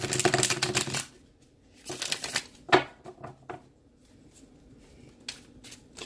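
Tarot cards riffle and flutter in quick papery bursts, with pauses and lighter taps between shuffles, close up and moderately quiet.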